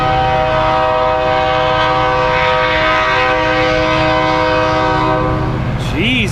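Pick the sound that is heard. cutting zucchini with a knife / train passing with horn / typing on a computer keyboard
train passing with horn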